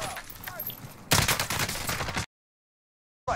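Video game gunfire erupts in a dense, rapid burst lasting about a second, loud and close, after a stretch of quieter battlefield noise. The sound cuts out abruptly, then resumes briefly.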